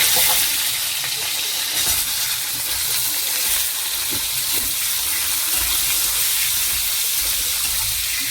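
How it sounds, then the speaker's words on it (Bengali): Chunks of elephant foot yam go into hot oil in a home kitchen, giving a loud, steady hiss and crackle of frying that runs unbroken throughout. "ওলটা দিয়ে দিচ্ছি তেলের মধ্যে"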